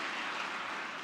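An audience at a book event gives a short burst of steady, dense applause that fills the whole moment at moderate volume.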